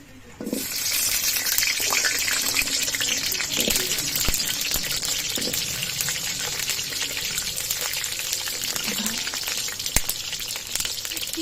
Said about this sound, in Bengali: আলুগুলো আগে ভেজে নেব